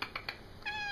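A house cat in a radio hobbyist's room gives a short, close meow that rises into a clear tonal cry near the end, after a few faint clicks, with no talking.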